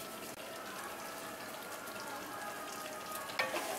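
Garam masala and kasuri methi stirred into kadai paneer with cottage cheese and capsicum, a faint, even frying sizzle with a brief scrape near the end.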